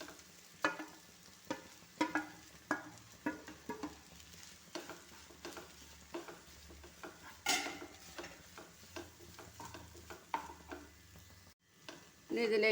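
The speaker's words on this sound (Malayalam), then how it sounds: "അതിലേക്ക് നമ്മൾ നേരത്തെ വഴറ്റി മാറ്റി വെച്ച സവാളയും വഴുതനങ്ങയും കൂടെ ഇട്ട് കൊടുക്കുകയാണ്." Onion and eggplant tossed into a hot pan, with spoon stirs and scrapes knocking against the metal over a low sizzle, a steady run of irregular clatters.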